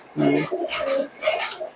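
Giribaz pigeons cooing close by in a loft, a few soft throaty coos in quick succession with faint clinks in the background and a voice partly over them.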